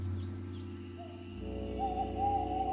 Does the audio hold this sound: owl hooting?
yes